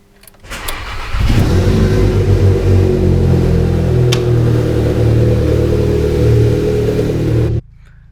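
A Volkswagen GTI fires up with a sharp starter burst, then its engine holds a loud, steady throaty rumble with slight rises in revs, heard close and alone before cutting off abruptly.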